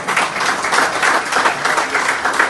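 A seminar audience applauds with dense, continuous clapping, steady and fairly loud throughout, with no voices over it.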